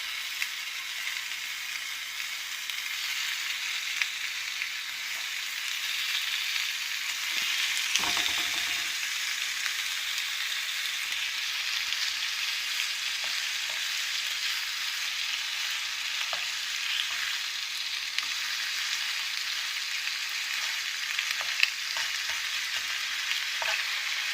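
Slices of smoked apple wood bacon fry in a pan with a steady, close hiss and crackle that holds the whole way through, with small pops scattered on top.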